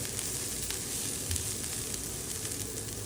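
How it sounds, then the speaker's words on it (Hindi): Sliced onion and cabbage fry lightly in a pan for a chicken kachori filling, giving a steady close crackling sizzle with small pops throughout. "गोभी को भी इसी तरह से हल्का हल्का सा फ्राई कर लेंगे।"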